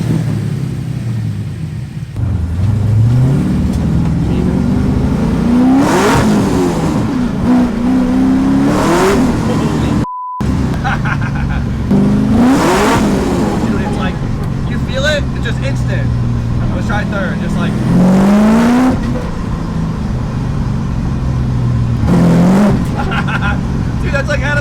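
A supercharged LS3 V8 in a BMW E36 roars through repeated hard accelerations on the street, revs climbing and dropping between gear shifts, loud and close, with people talking over it.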